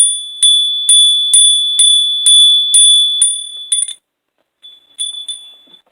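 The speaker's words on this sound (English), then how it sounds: "Hit the bell." A small bell is struck about eight times in a steady rhythm, each ring bright and sustained, then a short flurry of quick strikes, a pause, and a few fainter rings near the end, clear and alone with no talking.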